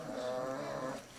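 A brief low, drawn-out groan from a dog, close and steady, fading at the end.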